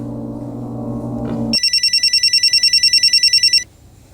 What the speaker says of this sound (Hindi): फोन बज रहा है, फोन उठाओ।